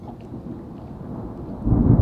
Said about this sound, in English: And then the thunder rolled in, so it was a cozy night for us.